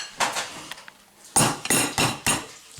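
A hammer strikes crab shells on a hard surface, about eight sharp cracking knocks in two short bursts, close and fairly loud, with brief gaps between them.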